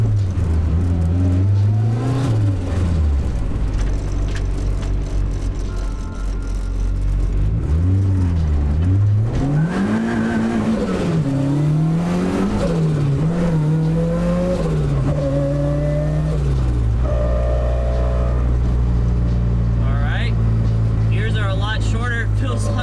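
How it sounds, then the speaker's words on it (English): Turbocharged Mazda Miata drift car on a test drive, its engine revving up and down loudly and continuously with gear changes and turbo whir, heard from inside the car. "let's get this car on the ground and go for a test drive"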